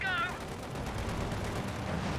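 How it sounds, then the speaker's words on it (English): An MG34 machine gun firing in the Company of Heroes 2 strategy game, a continuous rattling burst with distant battle noise and a short tonal effect at the start. "MG34 is firing away."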